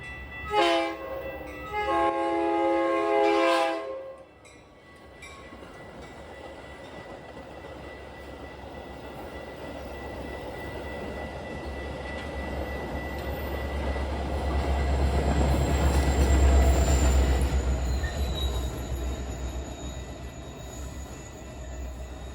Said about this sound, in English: Metra 2116 comes through, getting pushed by two SD70Macs, 515 and 504